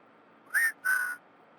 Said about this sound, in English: I, whistle at the computer's microphone. The audio signal has the code in it.